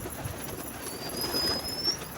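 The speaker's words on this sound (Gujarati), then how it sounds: "હાલો હવે કબૂતર ખોલી અમે." Pigeons just released from their coop outdoors, soft low cooing mixed with faint rustling and background hiss, fairly quiet and steady, with a thin high whistle-like tone drifting through the middle.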